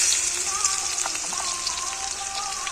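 Dried red chilies and garlic fry in hot oil, a steady dense sizzle with crackling pops running throughout, close and fairly loud, with a faint tonal whine in the background.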